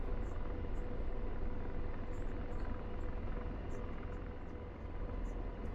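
An AH-64D Apache helicopter in the DCS flight combat game, a steady faint rotor and turbine drone held at a constant level throughout, with no voices over it.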